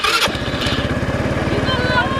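A moped with a newly fitted engine and exhaust coughs into life after a brief crank, then settles into a steady, rapid putter, close by and fairly loud.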